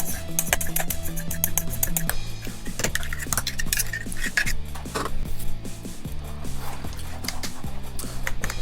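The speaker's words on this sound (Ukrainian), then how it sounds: "Все розмішуємо, щоб воно рівномірно все розподілилося по всій цій масі" Metal spoon clinking and scraping in a bowl as a mayonnaise and onion mixture is stirred, a steady run of close, bright clinks and scrapes with no talking.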